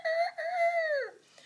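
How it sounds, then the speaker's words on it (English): A rooster on a farm crows once, a loud, close, drawn-out call that wavers and drops away at the end, followed by quiet. "Here on Grandma's farm, she's got lots of chickens."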